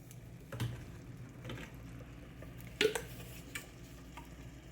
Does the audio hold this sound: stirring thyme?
yes